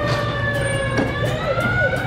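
A toy police car's electronic siren wails continuously and fairly loudly nearby, a steady rising-and-falling electronic tone with no talking over it.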